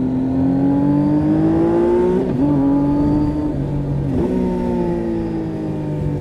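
The three-cylinder engine of a 2018 Triumph Tiger 800 XRt motorcycle revs hard and close, its pitch climbing steadily and dipping twice before rising again.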